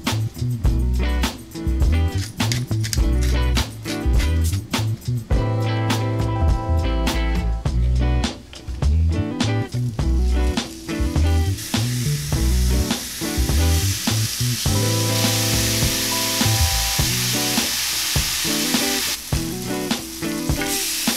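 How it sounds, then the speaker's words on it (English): Burgers seasoned with kosher salt and pepper sear in oil in a cast iron pan, a loud, continuous crackling sizzle with occasional scraping and stirring sounds, close up and steady throughout. "So we got a cast iron pan here, and we're going to put a little bit of oil on there and sear it"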